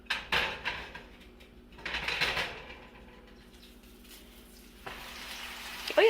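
A grilled cheese sandwich sizzles in a hot pan, heard as soft bursts of frying that swell and fade several times over a quiet background, with a louder crackle near the end.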